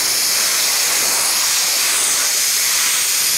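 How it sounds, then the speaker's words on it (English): Compressed air blows freshly zinc-plated motorcycle parts dry, a steady, loud broadband hiss lasting throughout with no pauses and no talking. "use a little compressed air and dry them off real quick"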